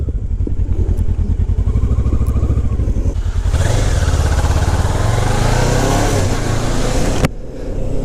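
Kawasaki ER6f (Ninja 650R) parallel-twin motorcycle ridden slowly, a loud close-up engine throb that pulses steadily at low revs, then rises into a fuller rumble and wind noise before easing off near the end.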